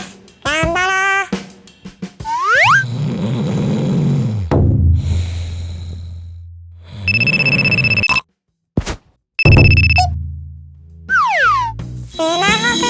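A smartphone alarm rings in two bursts of a steady, piercing electronic tone, set among animated, sweeping vocal sounds and other noises.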